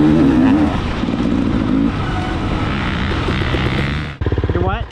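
A dirt bike engine at a sprint enduro race, revving loud and close with a steady drone that shifts pitch, then dropping out abruptly before a rougher, pulsing restart; a voice is heard faintly underneath.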